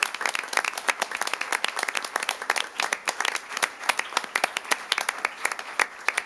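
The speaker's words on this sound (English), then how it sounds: "So one more big round of applause for everyone involved." Applause at a city council meeting honoring the fire department, a modest group clapping with distinct, uneven individual claps audible throughout, fairly close and steady for about six seconds.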